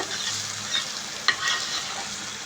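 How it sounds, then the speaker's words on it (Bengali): Lentil dal sizzling as it is tempered in hot oil in a wok, a steady close frying hiss with a couple of soft stirring knocks, no one speaking. "এই কড়াইয়ে ডালটা সম্বরা দিয়ে দেবো"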